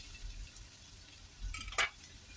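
Chopped onion and a couple of garlic cloves, finely cut, frying in oil in a pan for soya malai chaap, giving a soft steady sizzle with a brief louder crackle near the end.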